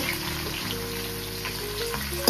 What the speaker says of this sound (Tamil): பூண்டு சேர்ந்ததும் வெங்காயம் போட்டு